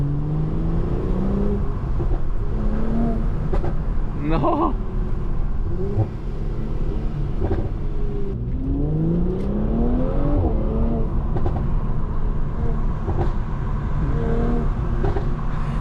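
A 2015 Mercedes C450 AMG accelerating in manual mode, its engine rising in pitch through several gear changes with brief dips between shifts, heard steadily from inside the cabin, with someone briefly speaking.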